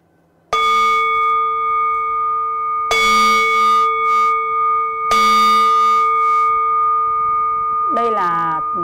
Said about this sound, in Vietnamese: Đây là 3 tiếng chuông